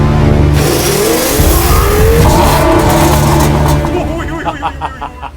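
An Audi S8 with the 5.2-litre V10 engine accelerates hard, a loud, continuous engine roar with rising pitch that eases off and fades near the end.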